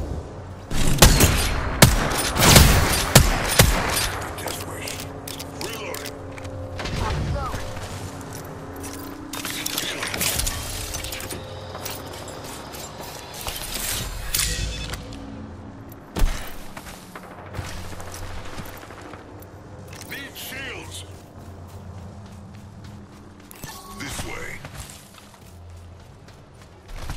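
Heavy Apex Legends gunfire rattles in repeated loud bursts and volleys, with mechanical clanks and reload sounds between them, dense early and sparser later.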